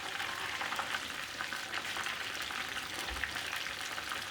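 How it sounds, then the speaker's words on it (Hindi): Chicken frying in a pan, roasted on both sides, gives off a steady, moderately loud sizzle and crackle with faint stirring. No one speaks. "हमारा चिकन हो गया रोस्ट दोनों तरफ से"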